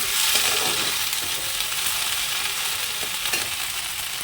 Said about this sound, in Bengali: কড়াইয়ে দিয়ে দিচ্ছি তেল তো আগে ভেন্ডি ভাজাটা বসিয়ে দেবো